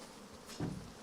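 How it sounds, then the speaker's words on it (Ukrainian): Bees buzz in an opened medicinal beehive holding two colonies at an apiary, a close, steady hum that swells briefly partway through. "Тут знаходяться дві сім'ї з пчолами."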